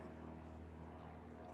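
A propeller airplane flies overhead during an outdoor podcast, a faint, steady low drone that holds evenly throughout the short stretch with no talk over it.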